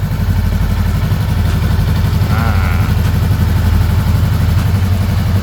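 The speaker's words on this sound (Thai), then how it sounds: "อันนี้ก็จะเป็นเสียงออกแนวแบบตุบตับตุบตับเป็น2สูบนะครับ" A 2018 Honda Rebel 500 two-cylinder engine idles steadily up close, a low, even thumping pulse that holds constant throughout with no other sounds.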